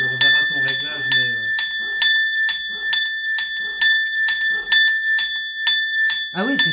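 A church bell driven by a newly installed control panel rings in a fast, regular series of bright metallic strikes, close and loud, with lingering tones between hits; voices speak over the first strokes and again at the end.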